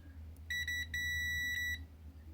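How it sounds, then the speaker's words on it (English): A Meterk MK01 digital multimeter gives its continuity beep: a loud, high electronic tone in two short bursts and then one sustained beep lasting nearly a second over a low hum. "And it beeps really loud."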